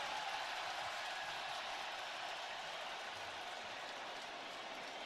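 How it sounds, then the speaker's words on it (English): A stadium crowd at an NFL playoff game between the Tampa Bay Buccaneers and Detroit Lions cheers and roars, a dense, even wash of distant noise that holds steady and thins only slightly toward the end. "And that is officially the largest cheer for somebody being reported as eligible."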